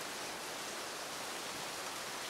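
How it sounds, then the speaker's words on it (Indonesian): Steady outdoor rain recorded on a Zoom H1n handheld recorder, a dense, even hiss with no gaps and no voices. "saat ini kondisi sedang hujan seperti yang bisa kalian lihat belakang"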